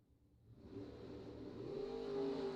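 A Corvette drag car launching at a drag strip during a bracket race, its engine rising in a steady, building roar heard from a moderate distance.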